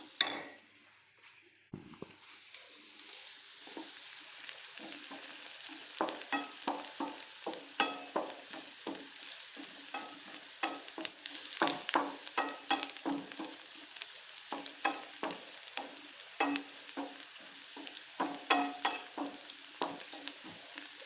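Small chopped onions frying in a pan, a steady close sizzle with frequent sharp clicks and scrapes of stirring throughout, with no talk.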